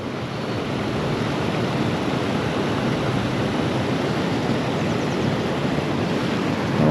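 Rushing white water of a creek below a dam, a steady, loud, broadband roar filling the whole stretch without pause or talk.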